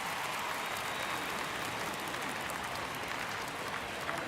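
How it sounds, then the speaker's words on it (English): A stadium crowd in MLB The Show 22 keeps up a steady, dense roar of cheering and clapping throughout, loud and continuous from start to finish with no clear voice on top. "These fans, they are ready to cheer about something"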